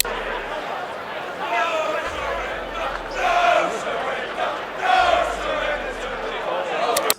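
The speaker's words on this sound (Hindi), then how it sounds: "सड़कों पर अचानक उमड़ आई भीड़, हाथों में तख्तियां, गूंजते नारे" A protest crowd on a London street chants slogans in rhythmic waves that rise and fall, with overlapping voices and chatter filling the gaps throughout.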